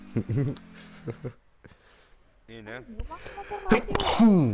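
A loud sneeze bursts out near the end after short bits of talk, close to the microphone.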